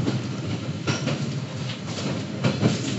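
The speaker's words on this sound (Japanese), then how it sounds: "ここで反対の特急やくも号と交換。" Yakumo limited express train running on the line toward Yonago, giving a loud, continuous rolling rumble with clattering wheel noise throughout.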